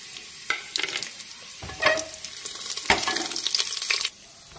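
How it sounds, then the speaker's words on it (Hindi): Whole spices for a tadka — cinnamon, cloves, green cardamom, dried red chillies, cumin seeds and bay leaves — sizzle and crackle in hot oil for masala khichdi, with a few scraping stirs and clinks close by and no talking. "इसमें हम तड़का में 1 इंच दालचीनी, 3-4 लौंग, 2 छोटी इलायची, 2 लाल मिर्च, 1 चम्मच जीरा, 2 तेज़पत्ता लिए हैं, इसे भी हम डाल दे रहे हैं।"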